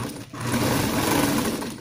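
A sewing machine runs steadily, stitching a straight seam alongside an invisible zipper, with a continuous close motor hum for nearly two seconds after a brief dip at the start.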